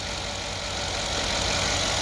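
A Ford Mustang S550 engine idles roughly after hydrolock, misfiring and not firing evenly in all cylinders, producing a steady, dense mechanical drone with knocking texture that holds constant at close range with no voices.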